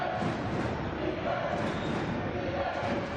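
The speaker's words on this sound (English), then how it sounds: "Here the crowd firing up defense" Crowd noise fills a high school boys basketball game, fans roaring steadily to fire up the defense, a dense continuous wash of cheering with no clear breaks.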